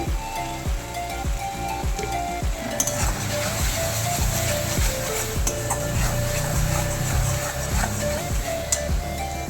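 A spice masala with salt and cumin powder is stirred in a pan, with repeated scraping strokes and clinks of a spatula over a low sizzle, brief faint voice in the background.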